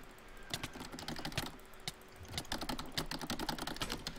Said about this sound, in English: I do apologize if I spam on the keyboard.